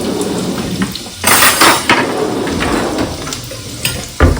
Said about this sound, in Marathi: खूप लसूण फ्राय करून घ्यायचा आहे एकदम ब्राऊन फ्राय करायचा आहे